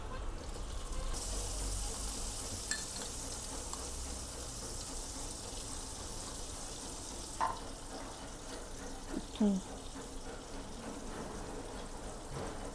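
Four spoonfuls of butter sizzle and fry in a pan while Kashmiri fish is being cooked, a steady hissing crackle with a few soft clinks and stirs.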